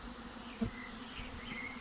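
A steady buzzing drone of many bees flying around a hanging swarm during swarm collection, continuous and fairly quiet, with a brief soft bump partway through.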